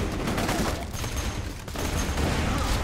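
A missile launcher fires in the shooter Borderlands 2, a loud, dense barrage of rapid blasts and roaring impacts with a brief dip before the volley resumes.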